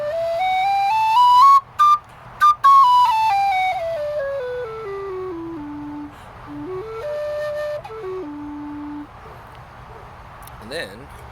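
A low D tin whistle played bare, without an air dam, gives a clear melodic line of sustained notes that steps downward and then wanders, with a few short breaks, loud and close.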